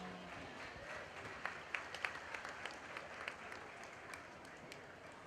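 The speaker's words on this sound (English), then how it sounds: "Let's give him a nice round of applause." Applause from the audience at a market steer show ring, a faint, distant patter of clapping with a few sharper claps standing out.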